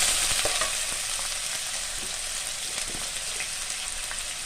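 Finely chopped cauliflower fries in a pan for sago khichuri, a loud dense crackling sizzle held steady throughout, with a few faint stirring scrapes early on and no voices.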